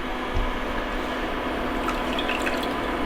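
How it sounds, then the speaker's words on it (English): Lemon juice from two lemons squeezed into a pot of water, a steady close trickle and patter of liquid with a few soft drips. "So I'm going to put the juice of 2 lemons in that water."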